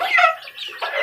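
Young chicks in a backyard flock giving a quick burst of high, thin peeps, close and clear, with a brief gap midway.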